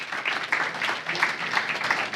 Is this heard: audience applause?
yes